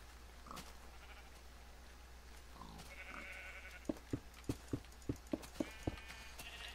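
Blocky Minecraft sheep bleat softly in the game world, a few short calls drifting under a faint background hum, followed by a quick series of sharp evenly spaced clicks.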